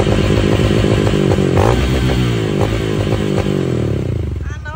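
Honda CRF dirt bike engine fitted with a new exhaust pipe, running loud and close with a steady throaty idle and sharp blips of throttle, slightly fading toward the end.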